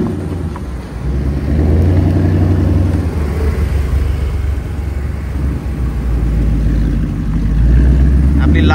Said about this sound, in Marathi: नाही बघा मस्टँग GT, मस्टँग GT.